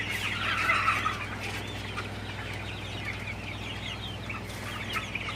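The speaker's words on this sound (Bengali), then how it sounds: "তো এই মুরগিগুলো ফ্যানের সামনে বসে আছে" Sonali super hybrid chickens on a farm, resting in front of a fan, cluck in a busy chorus of overlapping calls above a constant low fan hum.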